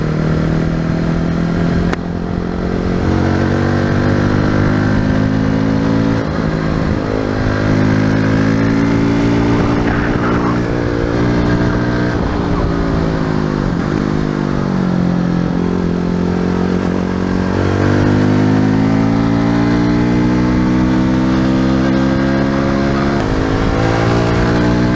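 Hyosung GD250n motorcycle engine on a test ride, a close, loud steady drone whose pitch rises and falls repeatedly through gear changes and throttle shifts, running continuously with no talk.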